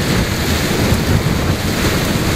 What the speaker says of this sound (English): We got some 8-foot waves out there.